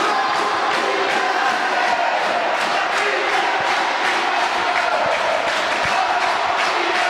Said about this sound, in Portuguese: E olha a festa da torcida da Elase.